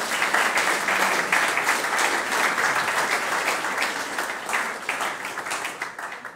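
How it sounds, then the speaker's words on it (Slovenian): Sustained applause from an audience honouring primary school pupils of Prežihov Voranc at a school awards ceremony in Ravne na Koroškem, a dense, steady wash of clapping that holds throughout and thins slightly toward the end. "Še enkrat velik aplavz z vaše strani za vse učence osnovne šole Prežihov Voranc."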